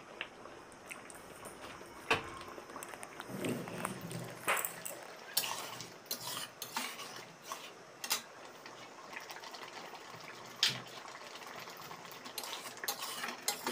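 A spoon stirring seed chutney in a pan, with irregular scrapes and clinks against the metal scattered over a quiet background, some sharper knocks standing out.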